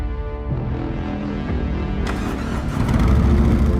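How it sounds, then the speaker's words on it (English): A Harley-Davidson Road King Special with a Milwaukee 8 engine cranks and fires up, then a sharp rev swells louder in a deep, rumbling burst, close and alone without talk. "Powered by the Milwaukee 8 engine."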